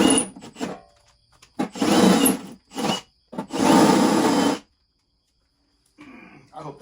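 A drill bores into a bumper-mounted RV grill in several separate grinding bursts of a second or so each, with short pauses and a person talking between them.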